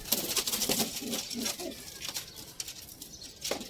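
Soft, low homing pigeon cooing murmurs through a busy background of fluttering and shuffling, with no voices, fairly faint throughout.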